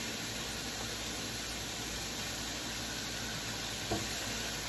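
Sausage sizzles steadily on a Blackstone griddle, a dense and even hiss that holds at the same level throughout, with a faint bump near the end and no voices.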